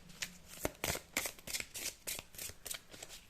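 A deck of oracle cards being shuffled by hand, a quick, soft series of riffling flicks in a steady rhythm, close and quiet with no talk.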